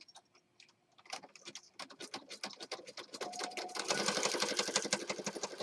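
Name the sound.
sewing machine stitching around a shape in a journal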